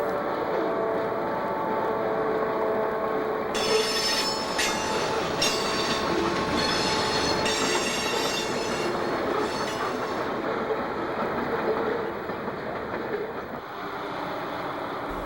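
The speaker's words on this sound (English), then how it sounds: "Another train leaves the South Mill area and heads towards Upper Wilson." A model railroad train runs along the track of a club layout, its steady rolling rumble joined midway by squealing wheels and clicking rail joints before settling back to a quieter run.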